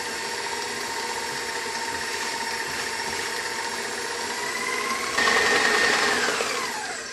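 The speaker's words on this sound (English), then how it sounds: "And I'm gonna mix this again." An electric mixer beats gluten-free doughnut cake batter with a steady high motor whine, then grows louder and shifts pitch as it works, winding down at the end.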